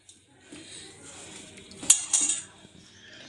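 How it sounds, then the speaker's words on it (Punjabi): Boiled potatoes are mashed for aloo tikki, with a spoon or masher clinking and scraping against a metal bowl in a few close knocks and a brief sharper clatter. "ਹੁਣ ਆਪਾਂ ਆਪਣੇ ਆਲੂਆਂ ਨੂੰ ਮੈਸ਼ ਕਰਾਂਗੇ"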